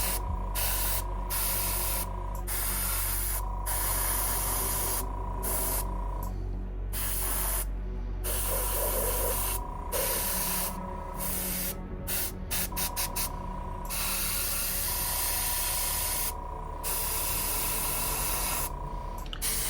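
An airbrush sprays paint onto a large miniature in a continuous close hiss that pauses briefly and restarts several times, with no voices.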